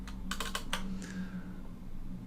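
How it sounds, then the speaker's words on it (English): A computer keyboard clicks nearby as the delete, shift and enter keys are pressed, giving a quick burst of sharp taps followed by a couple of separate presses over a faint steady hum. "clicking delete, clicking shift and enter twice"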